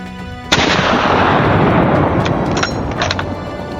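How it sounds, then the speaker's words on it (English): A loud rifle shot during a wild boar hunt on a hillside cracks out sharply and close, followed by a long rumbling echo and rolling reverberation that fills the rest of the moment. "John easily executed a shot accurate to the centimeter."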